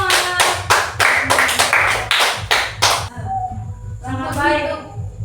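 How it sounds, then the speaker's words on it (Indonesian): A classroom group claps in rhythmic bursts, a run of sharp evenly spaced claps that stops about midway, followed by a short spoken reply over quiet room sound. "Tepuk tangan untuk kita semua."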